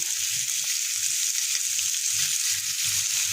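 Cheese sauce is stirred in a pot that is too hot, giving a steady bright sizzle with a soft, rhythmic stirring pulse underneath, close and loud with no talk.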